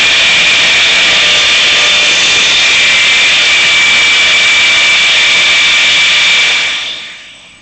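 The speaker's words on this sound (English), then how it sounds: "Now we want to cut some tenons." A power saw cuts tenons in wood for a Shaker-style cabinet door, a loud steady whine that holds for about six seconds with no talking, then spins down and fades.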